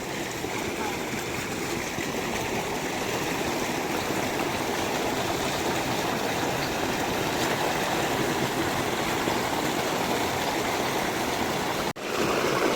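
Water rushes steadily along a flowing stream, a loud, continuous broadband gush that barely changes, with a brief dip near the end.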